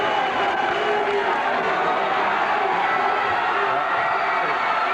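Basketball crowd in a 1994 high school gym, Salem at Lynn Classical, cheering steadily as a player enters the game; a dense, sustained roar of voices with no single call standing out.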